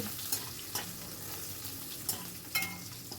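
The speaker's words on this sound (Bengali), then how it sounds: "এবার এগুলোকে একটু ভাজা ভাজা মতো করে নেবো খুব বেশি ফ্রাই করবো না হাই ফ্লেমে রেখেছি" Onions sizzle in oil on a high flame, a continuous soft frying hiss broken by several sharp scraping stirs of a spoon against the pan, close and alone without voices.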